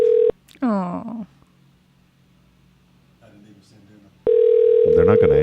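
A steady telephone dial tone plays, cuts out, then a voice speaks briefly before the dial tone returns with rapid dialing tones over it.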